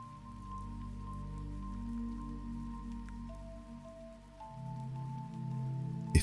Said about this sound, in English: you might notice the faint sound of the rain again